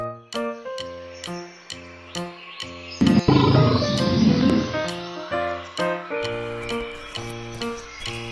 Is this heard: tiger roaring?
yes